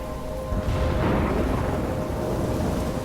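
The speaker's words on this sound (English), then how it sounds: "I'm trapped in a storm?" Thunderstorm in the video game Life is Strange: heavy rain hissing steadily with a low rolling thunder swell building partway through, wide and enveloping, with no voices.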